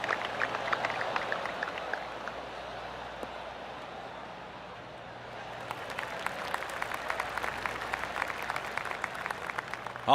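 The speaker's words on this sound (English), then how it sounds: "Oh, I can hear the golf claps around the course." Spectators clap politely around the golf course in PGA Tour 2K25, spread-out and distant applause that fades midway and then swells again with denser patter.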